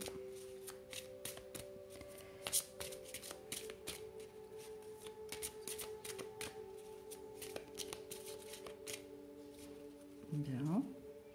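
Playing cards are shuffled by hand for a card-reading draw, giving a quiet run of soft riffling and flicking taps through the whole stretch, with a low hum beneath and a brief sliding sweep near the end.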